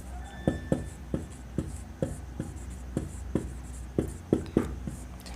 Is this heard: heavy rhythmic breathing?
no